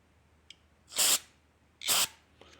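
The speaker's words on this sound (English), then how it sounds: "I'm trying not to spray carburetor cleaner all over my other motorcycles here in the shop." Two loud, hissing bursts of carburetor cleaner sprayed from an aerosol can in a motorcycle shop, about a second apart, each lasting a fraction of a second, with faint clicks and quiet room noise between.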